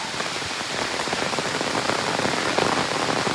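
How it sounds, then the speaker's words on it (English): Steady rain falls on a wooded stretch of the Appalachian Trail during a thru-hike, a dense, close patter of drops hitting surfaces without pause and with no voices. "It's been raining on and off all morning"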